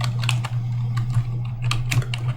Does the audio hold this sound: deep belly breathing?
no